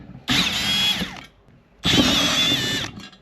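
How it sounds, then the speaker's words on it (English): Power driver with a socket head removing cover plate bolts on a Kuat Ibex rack for a Toyota Tundra, two close whirring bursts of about a second each with a short pause between them. "get socket head drivers to be able to more easily come in and remove these socket"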